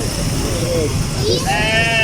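A goat bleats at a goat market in Lahore among Rajanpuri and Beetal goats, giving a couple of short, wavering calls close by, one drawn out near the end, over a background of people talking and traffic rumble.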